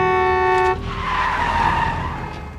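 A car's tires screech loudly in a skid during a near crash in a film scene, following a sustained horn blast, then fading out.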